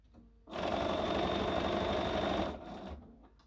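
A sewing machine stitches a quilt block seam for a Variable Star sampler block, running in one steady, close burst of about two seconds before stopping, with a brief quieter whir after.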